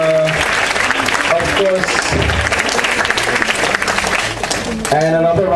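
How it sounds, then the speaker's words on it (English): Audience at a technology panel gives the panelists sustained, loud applause from a large crowd, with a host's voice talking over the clapping at the start and again near the end. "a huge round of applause for all the panelists out there"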